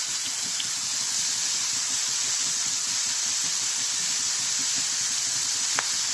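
Sesame seeds hit hot oil in a pan and sizzle with a steady, bright hiss that holds evenly throughout, with a single faint crackle near the end.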